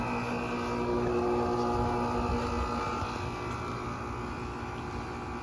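A 2016 Carrier 3-ton round condenser unit with a four-bladed fan runs outdoors, giving a steady, loud mechanical hum and whooshing airflow with a constant tonal drone throughout.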